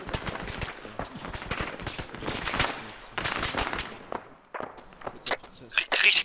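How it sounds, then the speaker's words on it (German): Heavy incoming gunfire in the military shooter ArmA 3, with dense cracks and bursts of shots arriving in irregular clusters, some near and sharp, others further off, while voices talk over it. "Richtig Beschuss rein."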